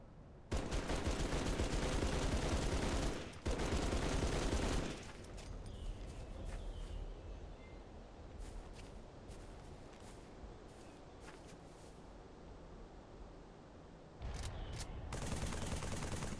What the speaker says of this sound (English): This is the assault rifle.